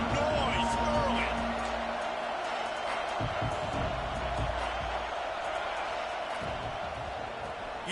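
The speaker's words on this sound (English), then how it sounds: "This crowd bringing the energy and noise early." A football stadium crowd roars steadily and loudly, a dense sustained wash of cheering noise, with a commentator's voice running over it.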